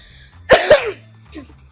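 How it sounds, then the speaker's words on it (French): A person coughs twice in quick succession, close and loud, followed by a fainter throat sound against a quiet background. "désolé si je tousse"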